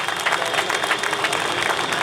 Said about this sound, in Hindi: माननीय केशव प्रसाद मौर्य जी का तालियों के साथ जोर से स्वागत करिए